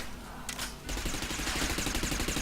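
Gunfire from the Interstellar Marines game, a rapid automatic burst of shots with rattling, evenly spaced cracks, loud and close, starting after a brief quieter lead-in and continuing steadily to the end.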